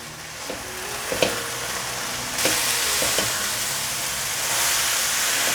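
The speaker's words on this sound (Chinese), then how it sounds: "快速翻拌。" Stir-frying in a wok with bean paste, coriander seed powder and soy sauce: a steady loud sizzle with hiss and scattered clinks of the spatula, with no talk.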